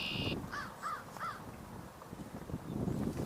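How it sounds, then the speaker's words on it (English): An American crow gives three harsh caws outdoors near wetland birding grounds, fairly distant over wind and background noise, with a brief high electronic tone at the start and no talk. "if that crow we're hearing is the one on the ground, then okay, it is an American crow, not a fish crow"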